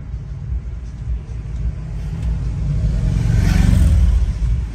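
Car cruising slowly near a beach on a summer evening while hunting for parking, a steady low engine and road rumble from inside the cabin that swells a little toward the end.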